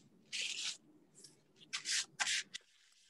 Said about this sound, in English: You're gonna grab a paper towel and you're just gonna wipe off that excess paint.